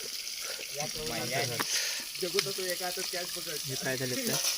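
Chicken pieces frying on a clay roof tile outdoors: a steady hissing sizzle throughout, close and continuous, with a person talking over it.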